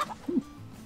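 A chicken in the survival game DayZ gives a short, close cluck in a single burst, with a quiet game background around it.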